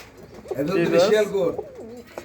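A high-flying pigeon, a Lalpari breed kept in a loft, gives a single close, throaty rolling coo that swells and fades over about a second and a half, with faint talk around it.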